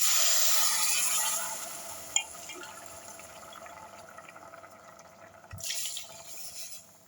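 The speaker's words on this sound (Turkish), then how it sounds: "Mantarları biraz kavurduktan sonra şimdi et suyunu üzerine boşaltıyorum." Chicken broth is poured over sautéed mushrooms in a pot for chicken soup, a loud rushing pour that fades into a quieter trickle, with a brief knock and a second short gush later.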